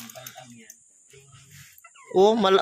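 A small bantam chicken gives a short burst of clucking near the end, close and fairly loud, after quieter voices and faint background sounds.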